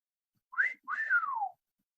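A bosun's call pipe sounds the carry on: a short rising whistle, a brief gap, then a longer note that rises and slowly falls away, shrill and close with no talking.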